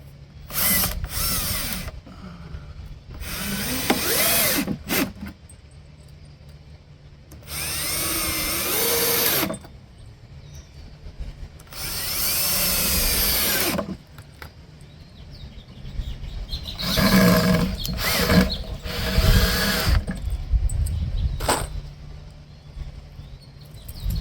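Power drill driving screws into the wooden corner of a small rodent-proof planter box, several separate whirring bursts of a few seconds each with pauses between, close and fairly loud.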